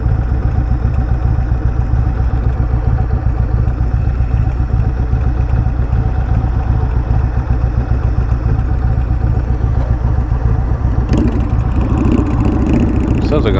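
A Honda motorcycle engine on a group cruise drones loud and close without pause, a dense steady rumble that grows rougher with added clatter near the end.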